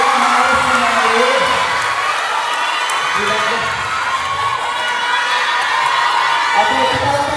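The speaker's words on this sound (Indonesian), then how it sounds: "kita beri tepuk tangan untuk Dara, Seva dan juga Dean yang harus kembali" Audience at a meet-and-greet with champions in Bali cheering, whooping and shouting loudly and continuously throughout, with voices mixed into the crowd noise.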